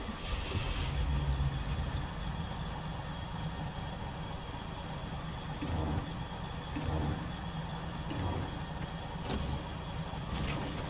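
A heavy truck engine in the game SnowRunner rumbles at a steady low idle, continuous and fairly quiet, with faint mechanical knocks and shifts in the drone.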